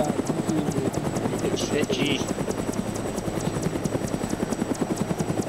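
Mi-24 Hind attack helicopter in the Arma 3 video game, its rotor beating in a loud, fast, steady thump throughout while people talk over it.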